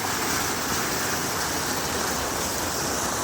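Monsoon rain pours steadily into a farm area in Gujarat, a dense, unbroken hiss and rush of water filling the whole clip at a constant, fairly loud level with no voices.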